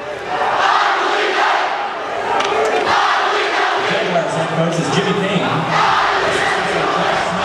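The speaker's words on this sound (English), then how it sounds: "the crowd is completely going bananas right now. Both sides are doing the exact same chant" A packed high school basketball crowd chants loudly in rhythmic waves, both sides shouting together in a roaring, echoing gym, with an announcer talking briefly over it.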